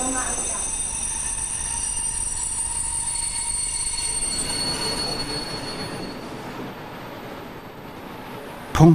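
A train rolls along rails at Artern station in Thuringia, its wheels squealing in a sustained high screech over a rumbling rattle of wagons, fading toward the end before a brief sharp clank close by.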